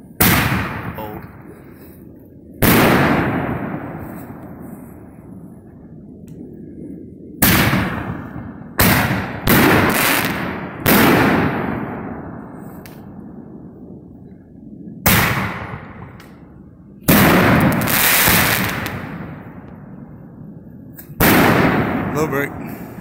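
Old Excalibur artillery shell fireworks, fired sleeve against sleeve, one after another, each a loud sharp launch or burst bang with a long decaying crackle and echo, about eight in irregular succession.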